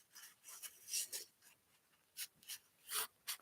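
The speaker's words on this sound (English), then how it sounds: "So our next step is to take the top and fold it down to the middle." Origami paper is folded, the top brought down to the middle, with quiet intermittent rustles and crisp rubbing swipes close by. The sounds come in short bursts at a low level.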